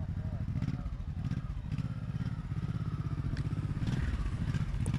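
A motorcycle engine pulses and throttles up and down during a low-speed turning exercise, heard close and continuous with a voice talking over it.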